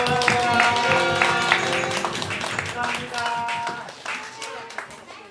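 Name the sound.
congregation clapping for a birthday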